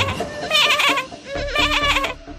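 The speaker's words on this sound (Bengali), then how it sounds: "এই বলে জাদু করে জাল থেকে বেরিয়ে আসে আর টুনিকে একটা ছাগল বানিয়ে দেয়।" A cartoon goat bleats twice in quick succession, loud, close and wavering, with a short gap between the two calls.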